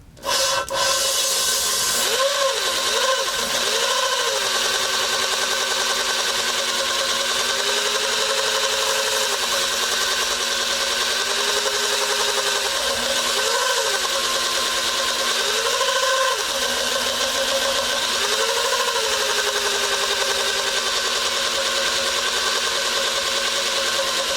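A rebuilt V6 MerCruiser ski boat engine fires up at the very start and settles into a loud, steady idle, with a few brief revs rising and falling over the continuous drone.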